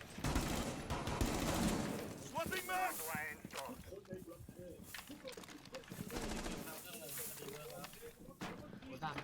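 Rapid bursts of gunfire rattle through a Rainbow Six Siege match, loud and close, with hissing and shifting in-game noise between volleys while someone talks excitedly over the action.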